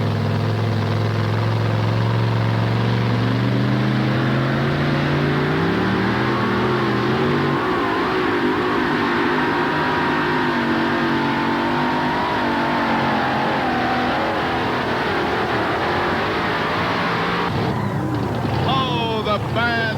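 Pulling truck called the Bad Dog from Georgia revving hard while dragging a sled at a 1987 Bowling Green truck pull, a loud sustained engine roar rising in pitch and holding under a crowd and announcer.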